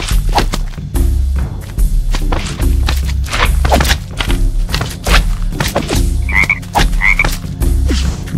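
Frogs croak repeatedly in a swampy grove in The Legend of Willow Valley, a video game, with loud croaks over looping music and sharp combat thuds and whacks. Two brighter croaks stand out near the end. No one talks.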